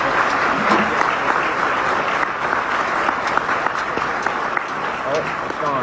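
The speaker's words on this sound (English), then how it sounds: "Give her a round of applause." Sustained audience applause at a University of North Dakota band pops concert, a dense, steady wash of many hands clapping at an even level for several seconds, heard from within the ensemble.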